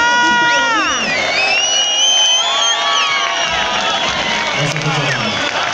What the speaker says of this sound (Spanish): un aplauso para Pochata para la batería